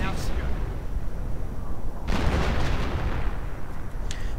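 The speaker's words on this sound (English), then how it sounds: "artillery getting called in on the Panther" Artillery fire called in on a Panther tank in a World War II strategy video game: a dense, continuous din of battle with a heavy blast rising out of it midway, under a steady commentating voice.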